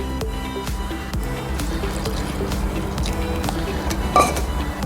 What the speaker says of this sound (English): Then we'll add the water in.